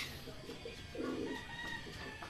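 Racing pigeons coo softly and faintly in a loft during a training and sprint race, a few low murmuring calls against quiet background hiss.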